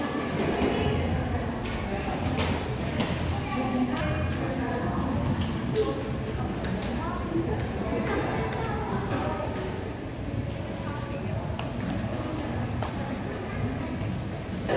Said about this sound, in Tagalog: Ito po yung tinatawag na tram.